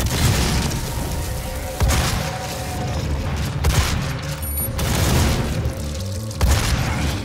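Shotgun blasts in a first-person shooter game, heavy booming shots in close succession with mechanical reload clatter between them, loud and dense over an ongoing game soundscape.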